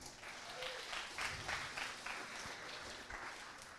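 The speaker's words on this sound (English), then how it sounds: "Give a round of applause, everyone." A crowd claps enthusiastically, a dense burst of applause that swells and holds for a few seconds before easing slightly.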